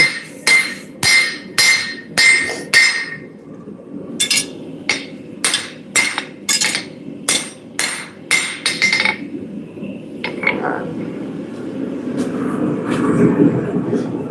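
Hammer forging hot metal on an anvil, ringing out in quick bursts of sharp metallic clangs with short pauses between groups, close and loud, then giving way to a rising mechanical rumble in the background.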